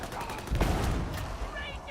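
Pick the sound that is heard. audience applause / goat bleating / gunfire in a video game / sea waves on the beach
gunfire in a video game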